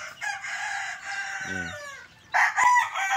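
Three-month-old chickens in a backyard breeding flock: a young rooster gives a loud, close crow, with clucks and further calls around it and a louder burst near the end.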